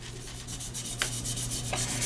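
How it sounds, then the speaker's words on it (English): A glossy game controller shell being scuffed by hand to dull the finish before hydrographics, a close, steady rasping rub with two sharper scrape strokes. "Scuffing the controller is real easy. The goal here is to get the gloss off."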